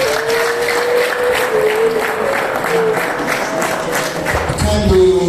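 Wedding guests at a Rwandan wedding celebration break into sustained, lively applause, with a steady crowd of clapping hands carrying over music playing underneath.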